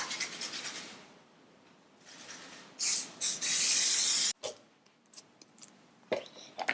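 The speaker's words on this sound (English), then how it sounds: "I'm going to spray it with a little bit of cooking spray so the dough doesn't stick" Cooking spray hisses into a bowl meant for rising bread dough: a couple of short puffs, then one long steady spray of more than a second, with rubbing and handling noises around it.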